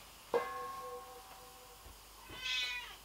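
A cat meows twice, a longer call near the start and a higher, shorter one near the end, close by and fairly quiet in a calm indoor room.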